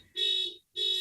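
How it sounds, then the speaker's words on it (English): Car alarm in a parking lot sounding two loud electronic tone bursts, a long sustained blast then a brief gap before a second blast starts, close and alone with no talking. "this one car alarm is really touchy in the parking lot"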